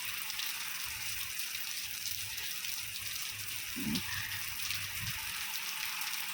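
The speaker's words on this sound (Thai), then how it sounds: "ฝนตกแบบเทมาใหญ่ๆแบบครั้งใหญ่โตแบบนี้เลยนะ" Heavy rain pours onto a vegetable garden, heard from inside a house through a metal grille as a steady, dense hiss with a few faint low knocks underneath.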